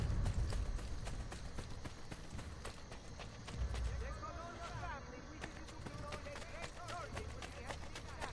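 Rhythmic horse hoofbeats clip-clop steadily amid a busy, layered soundscape from the video game Assassin's Creed: The Ezio Collection, with a voice talking over the top.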